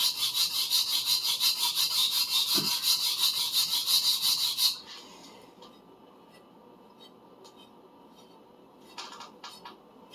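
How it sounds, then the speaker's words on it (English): A thumb scrapes across the burr on a 250mm Minamito sujihiki knife blade, a rapid, gritty scraping buzz running for several seconds up close, then stopping, leaving quiet room noise and a couple of faint scrapes. "You can hear that burr, my thumb scraping on it."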